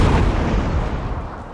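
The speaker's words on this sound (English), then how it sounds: "So, the artillery is going to keep firing." Napoleonic-era artillery in the video game Napoleon: Total War rumbles as a dense, continuous wash of booming cannon fire during a large multiplayer battle, loud and steady with no clear gaps between shots.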